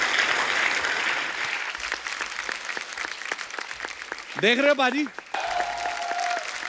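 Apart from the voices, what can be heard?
studio audience clapping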